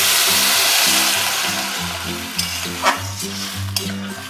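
Potatoes and cauliflower fry and get stirred in a pan for a fish dish. Steady loud sizzling comes with repeated scraping strokes of a spoon, and a couple of sharper clinks rise near the end.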